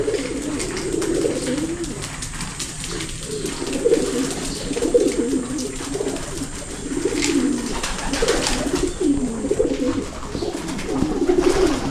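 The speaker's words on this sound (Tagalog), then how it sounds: "Naghahabulan na naman yung dalawang bio pigeon natin ha." Pigeons in a loft cooing steadily, low throaty calls repeating throughout as two birds chase each other, with occasional light rustles and faint background chirps.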